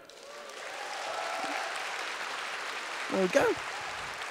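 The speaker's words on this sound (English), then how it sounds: "massive round of applause, Joe Brown" A comedy club audience applauds a stand-up comedian, a soft, distant, sustained wash of clapping with a voice speaking briefly near the end.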